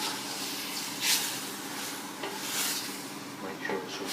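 Potatoes, meat, tomatoes, onions and chillies being mixed together in a cooking pot, with soft stirring and scraping scuffs, a couple of louder clinks, over steady background noise.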